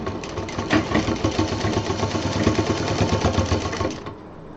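A sewing machine runs steadily through a baby diaper bag with piping and an elastic edge, its needle chattering in a fast, even rhythm for about four seconds before it stops abruptly, close and loud with no talking.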